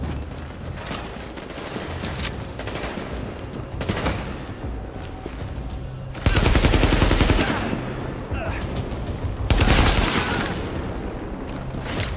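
Bursts of automatic gunfire from a firefight in the video game The Division, dense and loud with two heavier volleys, over a continuous rattle of shots.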